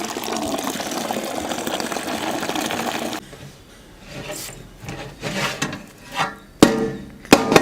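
Water pours steadily from a large pot of cooked rice for tomato rice, giving a continuous rushing hiss. It then stops abruptly and is followed by scattered clanks and knocks of the pot and lid.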